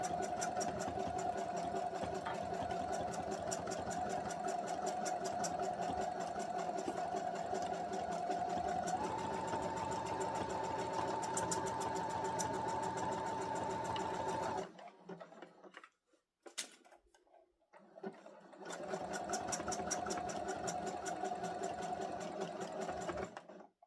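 A sewing machine stitches two pieces of fabric together, running in a loud, steady close whir that stops briefly midway with a few faint handling sounds before resuming.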